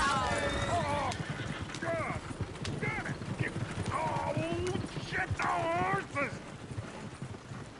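Steady clip-clop of video game horse hooves with occasional whinnies over a continuous ambient bed, with talking in places.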